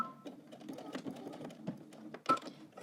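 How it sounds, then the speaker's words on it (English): A domestic sewing machine backstitches a seam on a Simplicity 9370 dress pattern: close, rapid mechanical stitching in short, stop-start bursts, with one sharper clack near the end. "Okay, I'm gonna back stitch here and cut my thread."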